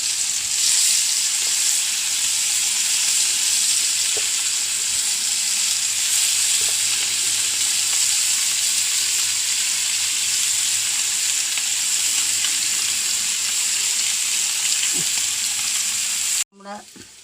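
Dried fish coated in chilli frying in hot oil in a pan, a steady close sizzle and hiss running continuously with a few faint clinks, ending in an abrupt cutoff and a brief knock.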